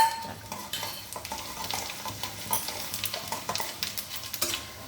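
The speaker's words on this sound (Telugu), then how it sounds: "పప్పు చక్కగా ఏగుతుందండి మినపప్పు శనగపప్పు ఇది నల్ల జీలకర్ర మామూలు మన జీలకర్ర కూడా వేసేస్తున్నాము" Urad dal, chana dal, black cumin and regular cumin sizzling in hot ghee for a tempering, with steady frying crackle and repeated clinks of a spoon stirring the pan, close and clear.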